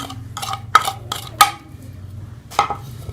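Spices including mango powder, turmeric, carom seeds and salt being mixed for homemade pakora masala, heard as a few sharp metallic clinks and scrapes of a spoon against a bowl, close and spaced irregularly with quiet between.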